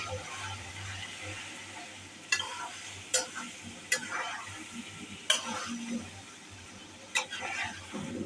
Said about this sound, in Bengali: আমি একটু নেড়ে দিই।